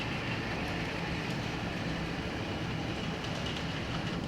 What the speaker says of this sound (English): I'm just going to run the locomotive across